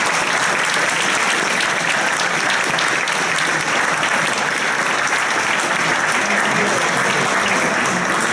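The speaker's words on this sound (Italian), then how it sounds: "quindi un applauso" Steady, dense applause from a large audience at a national assembly in Rome, a continuous wash of many hands clapping that holds evenly throughout with no voices standing out.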